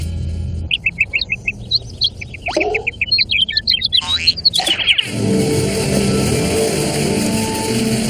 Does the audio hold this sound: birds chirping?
yes